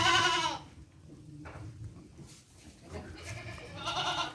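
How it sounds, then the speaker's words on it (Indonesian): A male Etawa crossbreed goat bleats loudly nearby on a farm, then quieter rustling and shuffling, before another wavering bleat rises at the end. "Inilah kambing pejantan yang dikasih nama Panglima Kumbang"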